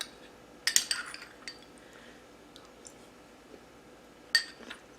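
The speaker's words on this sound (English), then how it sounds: "I'll add some to the pan and stir it around" Spoon clinks and soft scraping against a pan while butternut squash and apple pieces are stirred, two short clusters of clatter separated by near quiet.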